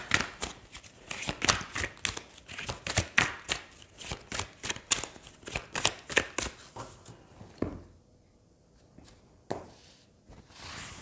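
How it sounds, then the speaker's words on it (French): Rider-Waite tarot cards being shuffled by hand, a close series of quick papery riffles and slaps in a steady rhythm for several seconds before thinning to a few soft isolated flicks. "Je vais prendre 3 cartes du tarot du Rider-Waite."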